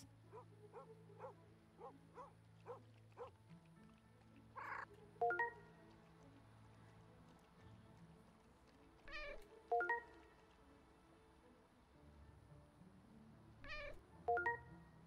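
A cartoonish cat in the Pets Hotel video game gives a string of short, quiet meows in a steady rhythm, then a few longer whining mews at intervals, over a low soft game background.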